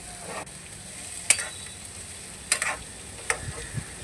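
Onions and green chillies sizzle in hot oil with dried prawns, a low steady fry broken by a few sharp crackles and spatters close by, with no talking.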